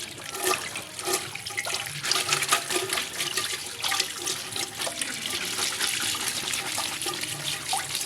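Chinese betel leaves (sirih cina) are washed under running water, with a continuous rushing, splashing stream throughout, fairly close and steady. No voices are heard.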